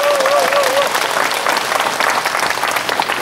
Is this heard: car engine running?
no